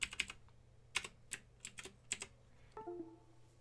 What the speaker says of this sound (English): There, I simply type in my password.